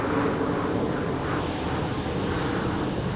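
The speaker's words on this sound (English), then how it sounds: "you can just see the Jet2 Boeing 737-800 going across the screen there" A Jet2 Boeing 737-800 passes at Manchester Airport's runway viewing park, its engines giving a steady, broad roar that stays even and fairly loud from start to finish, with no talk.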